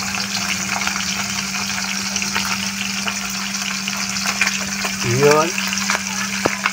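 Fish fries in hot cooking oil with a loud, continuous sizzle and a steady low hum underneath, close by, while a person briefly speaks.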